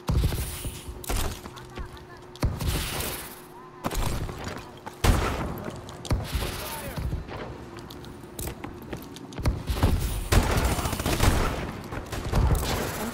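Gunfire in a first-person shooter video game crackles in repeated bursts and single shots across a busy, loud battle mix, with intermittent booms and movement noise between volleys.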